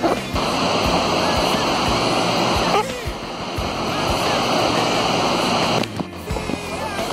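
A waterfall with a large rock in the middle pours steadily in a loud, close, continuous rush of water, with the roar briefly shifting twice as if the listening position moves.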